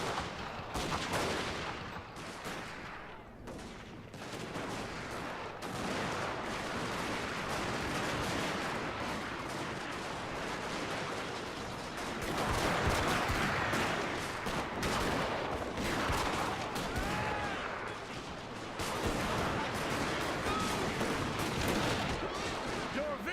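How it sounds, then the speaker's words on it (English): Infantry lines trade musket volleys in an online Shogun 2 Total War battle, a dense, continuous crackle of massed gunfire with rolling bursts, heavy and close throughout. "So making final infantry lines for a final gunfight."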